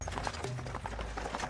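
A horse-drawn carriage rolls along to a steady clip-clop of hooves, even and moderately close, with no voices.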